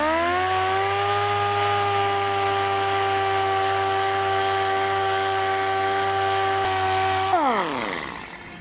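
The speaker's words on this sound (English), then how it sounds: "So now we'll sand some of this clear and show you." A power sander cuts through peeling, badly deteriorated clear coat on a car's paint, its motor whining at a steady pitch for several seconds before spinning down at the end; loud and close, with no talk.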